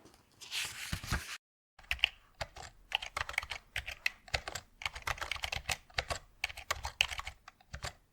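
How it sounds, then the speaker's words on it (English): Rapid clacking keystrokes on a computer keyboard, close and crisp, come in irregular bursts with a short pause near the start, with no talking over them. "let me hear this keyboard sing."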